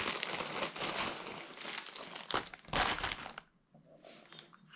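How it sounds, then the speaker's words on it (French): A Stage6 50cc StreetRace cast-iron cylinder kit comes out of its packaging with close, loud crinkling and crushing of paper and plastic in irregular bursts, fading to quieter rustles at the end. "On va le déballer."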